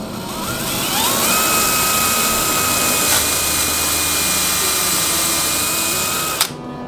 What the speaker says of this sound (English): I'm just gonna take a little drill bit here and just run me a little pilot hole.